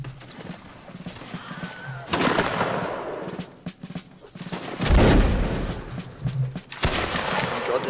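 Musket volleys crack and boom in a Napoleonic Wars battle in Mount and Blade Warband, with scattered shots and heavy bursts, some close and loud, others farther off, amid battle noise.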